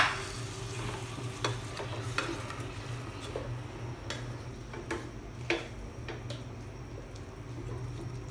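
Chicken kabsa being mixed in a pan: a steady low sizzle runs throughout, with irregular scraping clicks and taps of the spoon against the pan at a moderate distance, no voices.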